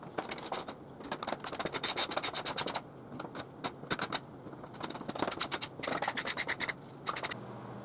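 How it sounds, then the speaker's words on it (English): Repeated scraping strokes of a hand scraper lifting dried glue from a glued-up maple tabletop, quick rasping bursts in rhythmic runs with brief pauses, close and fairly loud, no talking. "Scraping glue is annoying"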